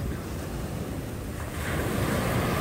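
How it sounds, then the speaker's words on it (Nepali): Sea waves roll in to the shore in the early morning, a steady broadband surf roar mixed with wind buffeting the microphone, growing louder in the second half. "समुद्रको लहर चाहिँ यहाँनिर यसरी आउँछ"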